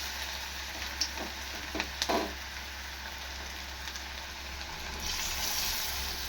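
Ridge gourd vadas sizzle steadily in hot oil, a continuous broadband fry hiss with a few soft pops and stir clicks near the start, growing slightly brighter toward the end; no talking.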